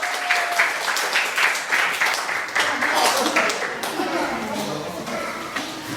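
An audience claps to welcome a speaker, a lively, fairly close round of applause from a crowd that continues steadily throughout, with voices and a child chattering faintly underneath.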